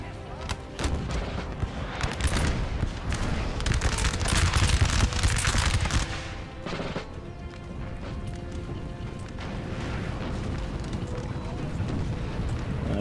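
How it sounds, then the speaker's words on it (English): Cannon and artillery blasts boom through a Napoleonic-era battle in Napoleon: Total War, with loud rumbling volleys peaking mid-clip and settling into a sustained din of distant battle noise while someone talks over it. "Artillery coming in."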